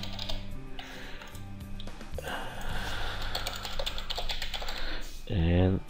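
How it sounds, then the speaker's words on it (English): Rapid bursts of typing on a computer keyboard while entering dummy text into a form, with clustered key clicks at close range, brief pauses between bursts, and a short voiced sound near the end. "And we'll just type away with some"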